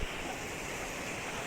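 A river flows in a steady, broadband rush that stays close and constant, with no voices and no distinct splashes.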